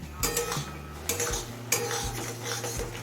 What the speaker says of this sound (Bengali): এবার মিডিয়াম ফ্লেমে আরও কিছুক্ষণ রান্না হতে দেবো